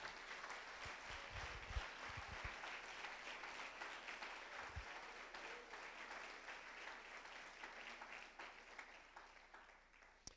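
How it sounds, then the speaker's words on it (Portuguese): A church congregation at an Easter Sunday service claps together, a sustained burst of applause that tapers off gradually, heard at a moderate distance. "Aplauda o poder de Deus."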